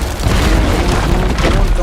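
Heavy bomb explosion in the Uncharted 4 prison escape, a loud sustained boom with rumbling debris that fills the whole moment while a voice talks over it.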